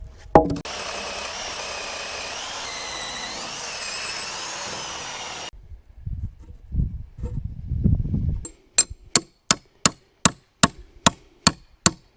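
Milled wooden boards are laid out on a road, with a steady machine drone at first, then shuffling knocks and scrapes of wood, followed by a run of sharp, evenly spaced wooden clacks as boards are set down.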